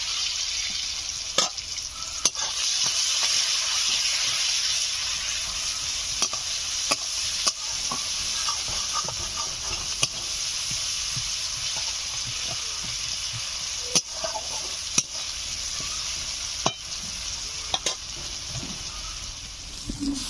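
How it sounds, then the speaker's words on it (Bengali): Chopped onions with whole cumin, a dried chili and salt sizzle steadily in a pan, a continuous close hiss broken by periodic sharp clicks of a utensil stirring against the metal, with no talking. "পেঁয়াজগুলো একটু ভাজা ভাজা হয়ে গেছে"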